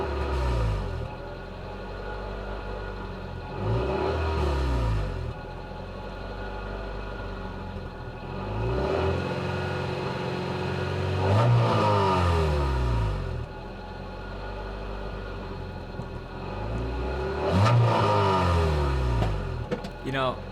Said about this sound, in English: This is the stock exhaust sound.